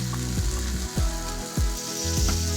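Chicken pouches frying in a pan over high heat, a steady loud sizzle broken by several rhythmic clanking scrapes of a utensil stirring, close up and with no talking.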